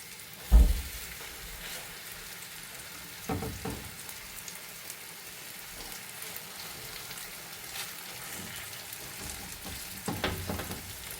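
Pieces of beef coated in black pepper sear in a pan for a pot roast, making a soft, steady sizzle broken by a few louder knocks and stirs.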